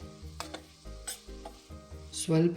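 Long-sliced onions with curry leaves and salt fry in hot oil for mango chitranna, a close, crackling sizzle punctuated by spoon strokes and scrapes against the pan, growing louder toward the end.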